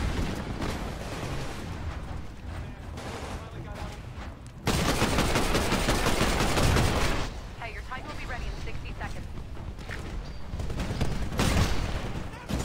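Sustained gunfire from a bunker in the Titanfall shooter game, a dense barrage of rapid shots that swells louder midway and keeps rolling under occasional talk.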